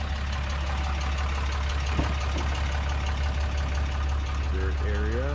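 A 2013 Ram 3500 pickup truck with a stock exhaust idling, a steady low engine rumble with faint knocking throughout, and a voice briefly audible near the end.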